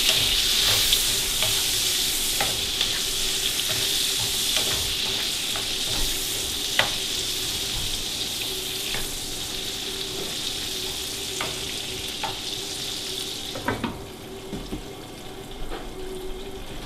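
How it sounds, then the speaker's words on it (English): King scallops sizzle steadily in butter and oil in a pan, a constant close frying hiss with occasional stirring clicks and scrapes, the sizzle dipping briefly near the end. "Now we've just had a bit of a cook in the butter and oil."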